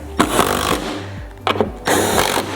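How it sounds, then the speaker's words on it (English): A powered nut driver with a 7/16 bit runs screws into the base of a portable toilet, giving three loud, close whirring bursts broken by short pauses, with a tapering whine as the motor slows between bursts. "Then you switch to your 7/16 nut driver."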